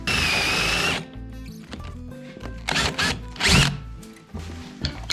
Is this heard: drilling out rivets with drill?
yes